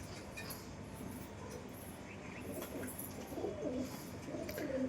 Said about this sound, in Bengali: এই যে পায়রা দেখি কতক্ষণ নামে।